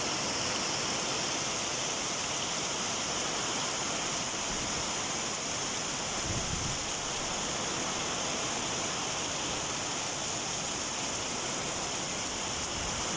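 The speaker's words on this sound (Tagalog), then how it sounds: "lakas ng hangin dito at ulan mga kapage." Strong typhoon wind and heavy rain form a loud, steady, unbroken roar that fills the whole stretch, with no voices over it.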